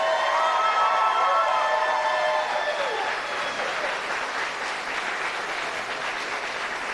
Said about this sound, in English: a little round of applause for the Hilton Cadet cheerleaders